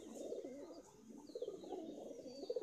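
A brown Madrasi pigeon coos softly and repeatedly in a low, rolling rhythm, fairly faint and close, with no talking.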